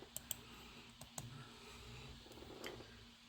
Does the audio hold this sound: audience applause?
no